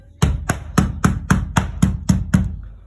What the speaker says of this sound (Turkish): çekiç veya plastik çekiçle bu şekilde vuruyoruz